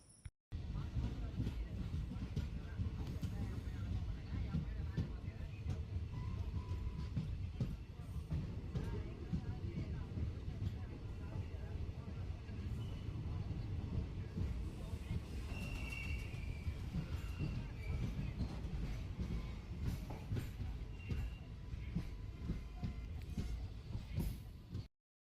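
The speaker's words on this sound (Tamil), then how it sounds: "இப்போ வரக்கூடிய இந்த ரயில் தாங்க மதுரையிலிருந்து குருவாயூர் போகக்கூடிய" The Madurai to Guruvayur train runs past near Bhagavathipuram at the foot of the Western Ghats, a continuous low rumble of rolling wheels and carriages lasting throughout, with faint higher squeals and rattles over it.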